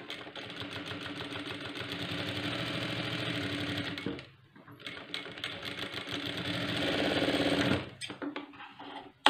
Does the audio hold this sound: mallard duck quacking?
no